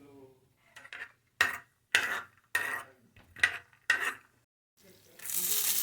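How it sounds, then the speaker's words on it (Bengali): Peanuts frying in white oil in a home kitchen while sabudana khichdi is made, heard as quiet, close bursts of clatter and stirring in a pan, ending in a steady, brighter sizzle. "সাদা তেল বাদাম ভেজে নিতে হবে"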